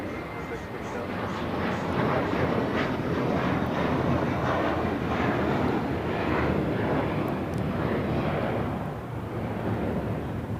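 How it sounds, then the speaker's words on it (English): An Alaska Airlines Boeing 737-800 in Disneyland Pixar Pier livery landing at LAX, a loud, broad jet roar with wind buffeting that swells and holds throughout, no voices over it. "It's flight 1331 coming in from Liberia on a 737-800."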